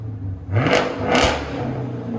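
A car exhaust with an X-pipe and Dynomax Race Bullet mufflers rises from a steady idle into two quick, loud revs, then settles back to a low rumble.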